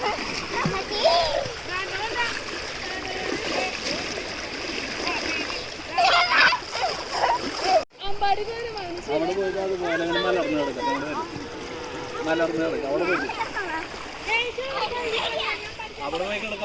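Water rushing down a hillside stream at the foot of a mountain, with children splashing and bathing in it; loud continuous splashing and churning, with children's voices and talk mixed in throughout.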